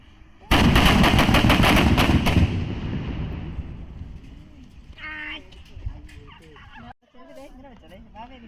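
A sudden loud crackling burst of firecracker blasts, rapid pops fading over a couple of seconds, followed by voices talking nearby.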